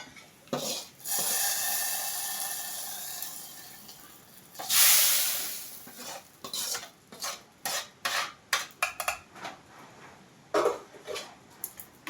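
Fried onion tempering hisses loudly as it is poured into dal curry, followed by a run of close, rhythmic spoon clinks and scrapes against the pot while it is stirred in.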